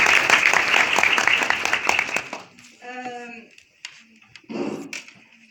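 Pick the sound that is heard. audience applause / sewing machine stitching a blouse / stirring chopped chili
audience applause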